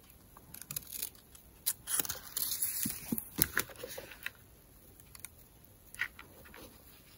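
Paper cut with scissors while making a handmade 3D Christmas greeting card: a series of short, crisp snips and rustles close by, irregular and quiet, with faint handling noise between cuts and no talking.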